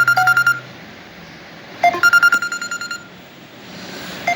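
A phone rings from an unknown number with a bright electronic beeping ringtone, two bursts of rapid repeated tones separated by a short pause, loud and close with no talk over it.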